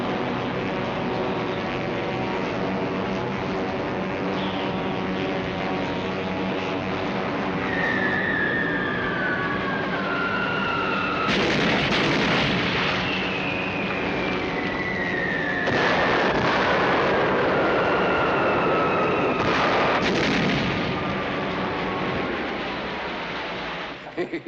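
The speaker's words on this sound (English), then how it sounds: "General Mitchell has signaled, requesting permission to commence bombing." Bombing explosions from an old war film depicting an aerial bombing run on a ship, several heavy booming blasts at intervals over a continuous drone of aircraft engines, loud and near.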